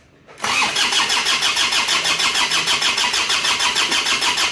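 An Isuzu Panther car engine is cranked on the starter and fires, settling into a loud, steady idle with a regular pulsing beat, close by and with no talking.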